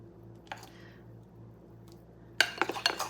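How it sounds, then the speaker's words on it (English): Drop biscuit batter being stirred in a bowl, a brief scrape early on, then a quick run of spoon-on-bowl clinks and scrapes at the end, close and moderately loud. "Let me stir it a little bit more."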